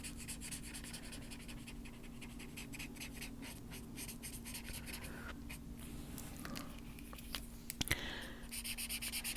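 A blending tool rubs steadily over a pencil drawing on paper, a soft, continuous scratchy swishing in close, quiet strokes with a faint background hum, and no voices.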